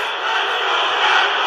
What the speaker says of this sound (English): We got Let's Go Fat Boys chants from the crowd